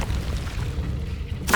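The Confringo explosive spell in Hogwarts Legacy: a short, low booming rumble that swells briefly and ends in a sharper burst at the close.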